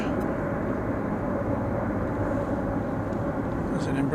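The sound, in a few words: Embraer 175 jet airliner at DFW Airport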